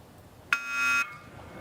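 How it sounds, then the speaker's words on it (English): A single electronic beep starts a rowing race at the 2024 World Rowing Championships. The tone is sharp and loud, holds for about half a second, then stops abruptly over quiet background. "With the electronic beep,"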